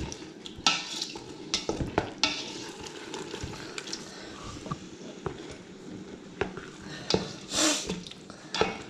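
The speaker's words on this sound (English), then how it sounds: "So I'm going to keep this stirring" Veggie pasta is stirred in a pan, with quiet sizzling and repeated scraping knocks of a utensil against the pan in an uneven rhythm, close and fairly soft.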